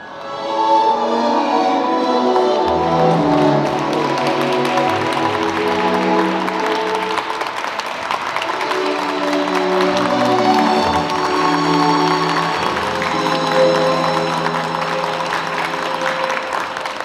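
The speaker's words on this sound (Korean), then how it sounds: "여러분들께서는 큰 박수 보내주시면 감사하겠습니다" Wedding guests in a Korean wedding hall applaud as the two mothers make their entrance, with loud, continuous clapping and some cheering over steady background music throughout.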